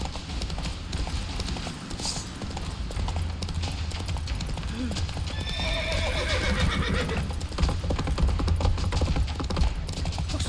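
Roach the horse in The Witcher 3 galloping with a steady close clip-clop of hooves, a neigh breaking in midway, while voices talk over the game soundtrack.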